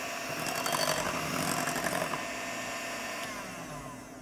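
An electric mixer whips egg whites at low speed for a chocolate castella cake, giving a steady, close whirring buzz that stays even throughout with no speech.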